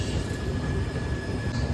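A passenger train on the Delhi to Visakhapatnam route runs beyond Agra, giving a continuous low rumble and rattle with a faint steady tone on top, heard from inside the carriage.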